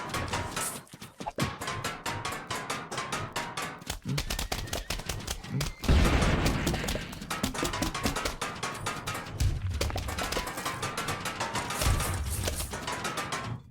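Plants firing projectiles in Plants vs Zombies Fusion, a rapid, continuous stream of sharp popping shots layered into a dense, steady barrage with occasional heavier thumps, loud and close throughout.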